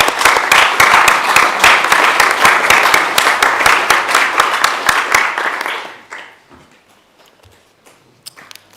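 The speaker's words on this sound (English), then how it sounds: "I think we should give them all a round of applause" Members at a full council meeting give a round of applause, loud and brisk with sharp individual claps standing out, sustained for about six seconds before quickly fading to a quiet room with a few stray sounds.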